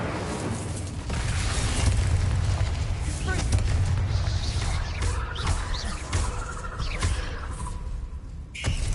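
The Incendio fire spell is cast during Hogwarts Legacy combat: loud, rumbling fiery bursts and booms roll continuously amid game effects, with voices heard now and then.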